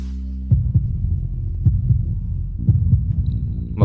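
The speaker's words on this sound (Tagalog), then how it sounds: "Kapag binanggit lang si Diego, bumibilis ang tibok ng puso mo" A racing heartbeat sound effect in a romance drama: steady paired low thumps over a soft droning hum, with no one talking.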